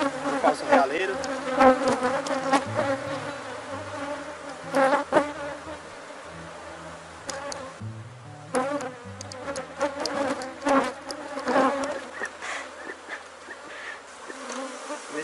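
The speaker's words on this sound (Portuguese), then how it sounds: "Esse enxamezinho aqui eu poderia dividir ele, mas eu também posso colocar melgueira" A honeybee colony buzzes continuously during a hive inspection, a dense, close, droning hum from many wings that swells and dips in loudness, with occasional handling knocks.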